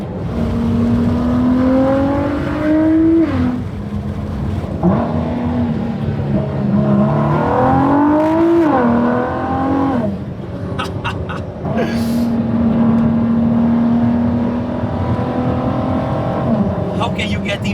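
Ford GT sports car driven on the open road, its engine rising and falling through repeated accelerations and gear changes heard from inside the cabin, loud and continuous, with occupants talking over it.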